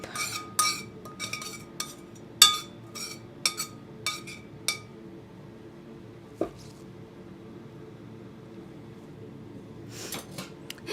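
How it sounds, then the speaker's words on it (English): Meat juices being mixed in a dish for a lamb sauce, heard as a burst of quick utensil clinks and scrapes against the dish, then a quiet pause, one more tap and a few final clinks. "I'll add some of the meat juices to here. I'm going to mix these up."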